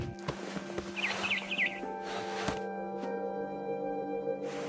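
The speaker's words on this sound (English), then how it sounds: "Then I heard chirping outside my window. It was a barn swallow going back to her nest" A barn swallow in What Remains of Edith Finch chirps outside a window in a short warbling burst early on, heard over a steady game ambience with faint thumps and footsteps.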